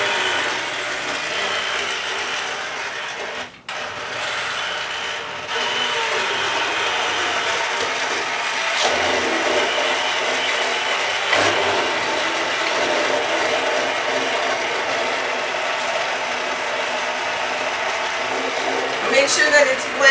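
A blender whirs steadily while blending a creamy kohlrabi and turnip soup, a loud continuous mechanical drone that stays mostly even, with a brief dip near the start.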